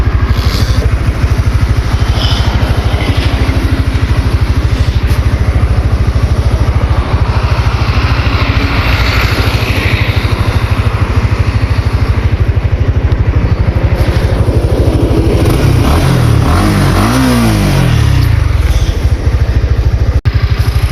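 A Honda Winner X 150 motorcycle engine runs on S-Oil Seven oil at about 20,000 km, holding a loud, steady, close idle with a low throb, then swelling into a brief rev near the end.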